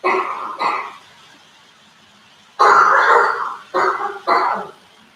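A woman coughing indoors, one pair of short coughs followed after a pause by a longer harsh cough and two more quick bursts, fairly close and loud.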